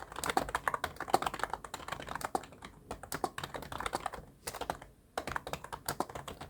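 Rapid typing on a computer keyboard, with key presses and space bar taps clacking close and crisp in irregular bursts, a brief pause midway, and no voices.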